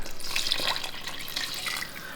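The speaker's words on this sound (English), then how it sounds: "I'm also gonna add in a little bit more water." Steady splashing rush of water poured into a pot of pork sinigang with tomatoes, continuous and fairly loud for about two seconds with no talking.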